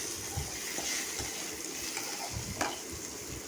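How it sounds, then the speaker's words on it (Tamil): Shallots and tomato sautéing in a pan, frying with a steady soft sizzle and occasional stirring scrapes, close and alone without talk. "போட்டு இதையும் நல்லா வெங்காயம் பச்சை வாசனை போகிற அளவுக்கு வதக்கிங்க"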